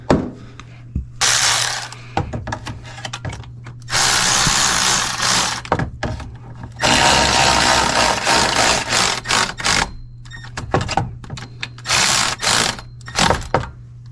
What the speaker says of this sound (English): So now we can tighten the rest of the EGR cooler assembly bolts.